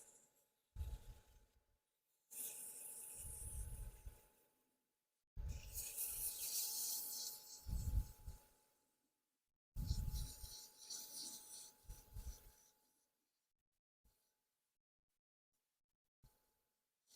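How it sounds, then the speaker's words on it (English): A wooden pen holder is sanded by hand with sandpaper in three or four separate bouts of rasping back-and-forth strokes, close and moderately loud, with quiet gaps between them. "you don't want to build up heat while you're sanding because that just wrecks the wood."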